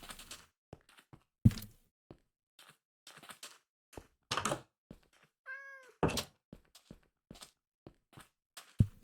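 A cat in the Minecraft video game lets out a single clear meow midway, set among scattered dry clicks and thumps of in-game sounds, with no talking.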